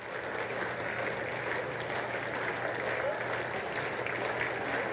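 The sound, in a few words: scant applause during walk-in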